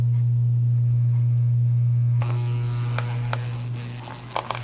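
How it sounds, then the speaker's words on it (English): An electric massager runs on a muscle, giving a steady close buzzing hum whose tone shifts partway through as it presses into the body, with faint handling knocks near the end. "what the massager does is actually physically loosen everything that's underneath it"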